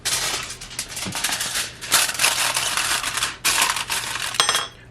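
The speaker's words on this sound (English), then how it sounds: "I need to cover this with foil" Aluminium foil is crinkled and pressed over a hot ramekin for an apple peach cobbler, with bursts of loud, close rustling and crackling separated by brief pauses.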